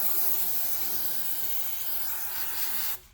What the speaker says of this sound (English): The old brake clean takes this stuff off real good and just spray her down